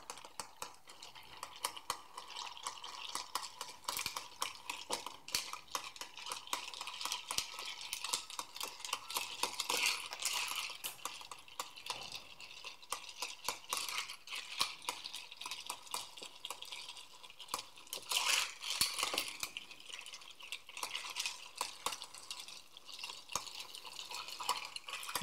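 Ice cubes stirred in a mixing glass for a rye whiskey cocktail make a steady, soft clinking and swirling that runs the whole time with no talking.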